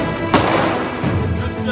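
A single sharp handgun shot cracks out close and loud at a firing range, its report ringing briefly before a second, softer thump follows.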